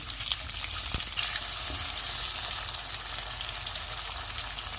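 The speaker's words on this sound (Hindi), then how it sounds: "शिमला मिर्चें डाल देंगे और इन्हें 2 मिनट तक फ्राई करेंगे" Green chillies and capsicum fry in about two tablespoons of oil in a pan for chilli fish, giving a steady, close sizzle with faint stirring scrapes throughout.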